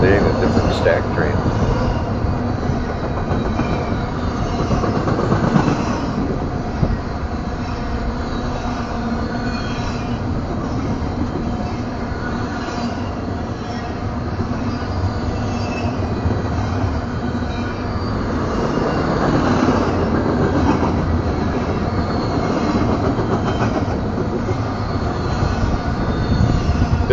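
A long BNSF stack freight train rumbles steadily past nearby, wheels clacking and occasionally squealing, the roar swelling and easing as cars roll by.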